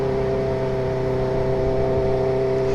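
Suzuki GSX-R sport motorcycle engine droning steadily while riding, a loud, close, even hum with a strong low tone and wind rush, no voices.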